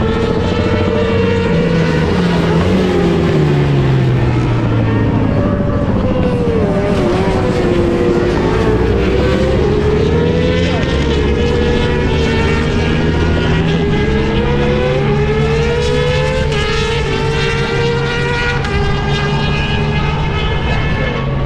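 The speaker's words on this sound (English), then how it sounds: "As you can hear behind me, these bikes are going by" Racing bagger motorcycles in a MotoAmerica race at a track scream past in a steady stream, loud and continuous, engine pitches rising and falling as bikes approach and pass.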